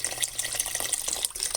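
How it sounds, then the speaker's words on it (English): Vegetable stock poured into a soup pot makes a steady, splashy liquid stream at close range, continuous and fairly quiet for under two seconds, with no voices. "I'm going to pour a little bit of this vegetable stock in here"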